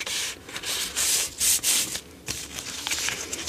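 A hand sanding block with sandpaper rubs across a large flat surface in a steampunk bag craft project, making steady scraping strokes in uneven bursts, close and fairly loud, with no voices.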